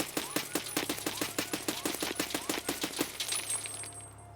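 MDR rifle firing in Escape from Tarkov: a rapid, steady string of about sixteen sharp, loud shots in even rhythm, then a short fading tail with no talking.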